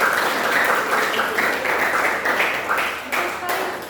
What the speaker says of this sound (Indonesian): Tepuk tangan dulu untuk kelompok yang masuk.